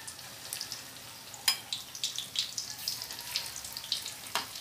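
Turon, banana spring rolls, frying in hot oil, with a steady soft sizzle broken by sharp pops and crackles, heard up close.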